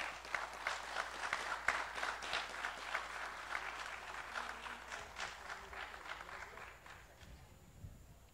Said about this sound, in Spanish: Recibimos con un aplauso a don Pablo Alvarado